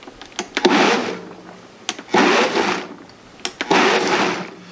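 Cheese sauce blended in a pitcher, pulsed in three loud, roaring bursts of about a second and a half each, separated by short quieter pauses, heard alone and up close.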